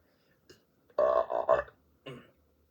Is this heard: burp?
yes